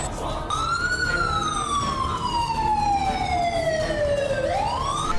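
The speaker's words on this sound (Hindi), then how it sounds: "लश्कर के अड्डों पर सायरन बजने लगे हैं" A wailing emergency siren sounds at a militant camp near Rawalpindi, Pakistan, one long tone sliding slowly downward before sweeping back up, steady and fairly loud over a rough background rumble.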